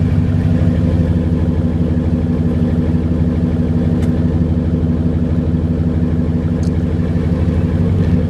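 A 2012 Ram 1500 Laramie Longhorn with a 5.7-liter HEMI V8 and Dynamax dual-pipe exhaust idles steadily, a loud, close, deep rumble that holds even throughout without revving.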